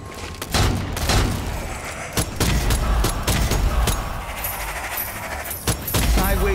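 Handgun fire in the video game Strange Brigade: sharp shots come in quick, irregular bursts over game ambience, fairly loud and close.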